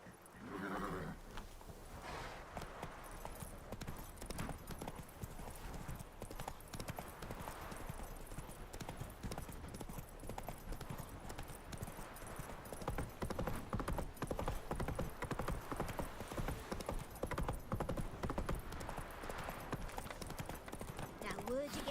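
Roach the horse gallops in The Witcher 3 on Death March difficulty, with a steady hoof rhythm, a short whinny and game voices talking over it.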